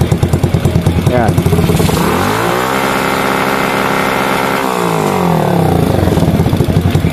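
A Suzuki Smash motorcycle fitted with an adjustable 4-pin CDI idles, then revs up to around 8,000 RPM. It holds the high whine for a few seconds before dropping back to a choppy idle, loud and close.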